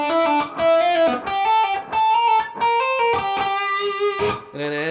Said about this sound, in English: But what we're going to do is we're going to use a hammer on and a pull off for each one.